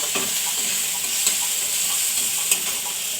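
Onion and tomato fry in a pan with a bright, close sizzle, broken by a few soft stirring knocks against the pan; no one speaks.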